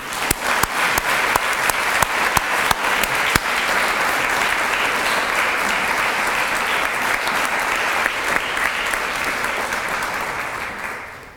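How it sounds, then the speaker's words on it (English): Applause from the audience at an annual human rights awards breakfast, a dense sustained round of many hands clapping with sharp individual claps, loud and steady before slowly tapering at the end. "Please join me in giving a deserving round of applause for Tammy Nitin"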